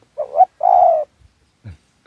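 Soft, low cooing of a spotted dove, a few rounded notes with pauses between, close and clear against a quiet background.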